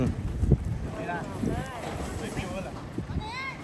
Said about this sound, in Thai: ลมแรงนะครับลมแรง